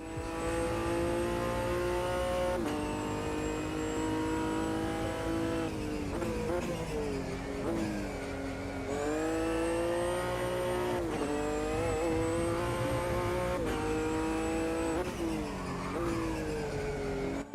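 Classic GT race cars from an Automobilista 2 race, several engines roaring together on track with continuous loud revving, gear-change pitch drops and rising accelerations, occasional tire squeal under braking.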